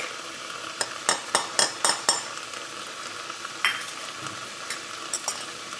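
Garlic and cumin frying with meat in a pan for chili with beans, stirred with a utensil that makes a run of sharp scraping clinks, then quieter intermittent scrapes over a soft sizzle.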